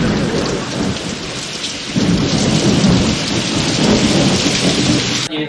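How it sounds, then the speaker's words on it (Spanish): A thunderstorm sound effect for a radio drama: steady heavy rain pouring on surfaces with deep rolling thunder swelling partway through, loud and continuous, with no voices. "Y encima esto, la lluvia pertinaz. Desde luego, qué asco de... tormenta."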